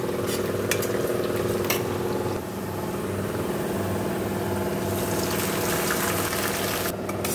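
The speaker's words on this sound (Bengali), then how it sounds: "একটু পেঁয়াজটা ভাজা ভাজা হলে মশলাটা দিয়ে দেবো" Onions fry in a pan with a steady, loud sizzle that runs the whole time, with a few clinks and stirring scrapes over it.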